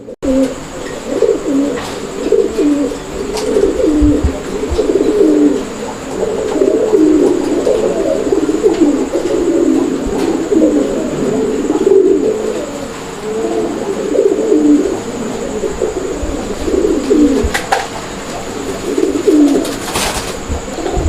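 Gola pigeons at a pigeon farm coo continuously in low, throaty, overlapping rolls, several birds close by, with a steady murmur that never pauses.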